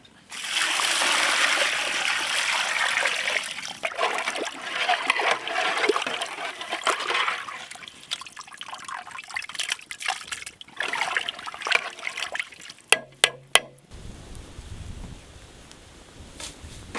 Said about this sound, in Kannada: ಹಂದಿ ಬೇಯಕ್ಕೆ ನೀರು.